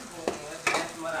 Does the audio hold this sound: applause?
no